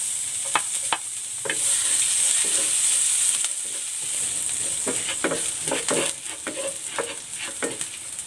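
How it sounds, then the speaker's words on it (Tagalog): Garlic sautéing in a hot pan for an eggplant dish: a steady sizzle and fry throughout, broken by frequent clicks and scrapes of stirring, with no talking. "Magigisa na ako ng bawang."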